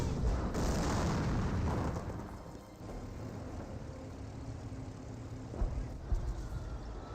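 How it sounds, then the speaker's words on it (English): Artillery shells booming in Company of Heroes, a heavy low rumbling blast that fades into a steady roar of battle noise, with a couple of fainter thuds later on. "And we've got some artillery to stop these Panzer Grenadiers advancing."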